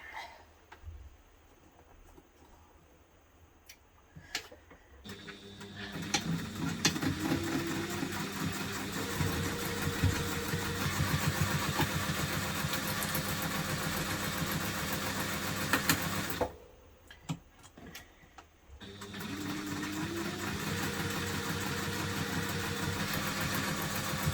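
A sewing machine top stitches a hipster bag in two runs, each a steady mechanical whir lasting several seconds, split by a brief pause, close up and fairly quiet.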